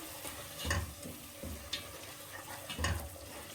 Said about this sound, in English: Of course, give it a stir.